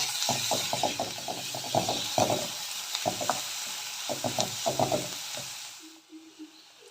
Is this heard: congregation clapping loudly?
no